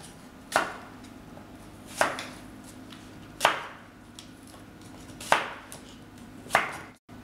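Two apples are rough-chopped with a knife on a board, giving five sharp, evenly spaced chops about 1.5 seconds apart against a quiet background.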